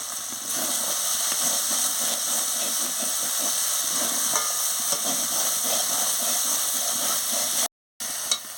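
Spice paste with salt frying in a pan for a soybean and papaya curry gives a steady broadband hiss. The sizzle runs unbroken at even loudness and cuts out briefly near the end.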